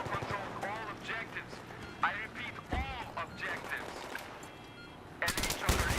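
Machine gun fire crackles in bursts during a Battlefield 3 match on the Kharg/Damavand maps, fairly faint and scattered among other game sounds and voices, with a louder, sharper burst at the very end.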